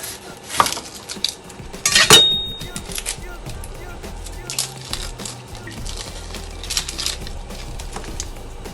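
A knife cuts half an onion on a cutting board for sautéed roasted vegetables, making close sharp knocks and scrapes. A sharp metallic clatter comes near the start, then scattered chopping taps follow under intermittent low talk.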